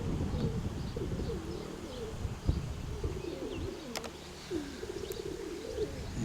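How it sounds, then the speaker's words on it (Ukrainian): Pigeons coo repeatedly in low, throaty bursts nearby, with faint chirps and a brief flutter against outdoor background noise. "На блакитному небі голуби."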